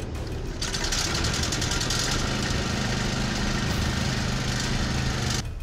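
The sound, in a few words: diesel generator engine started and idling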